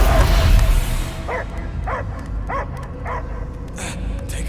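A dog barks in Marvel's Guardians of the Galaxy, five evenly spaced yipping barks close by after a loud noisy opening, followed by a couple of fainter higher yelps.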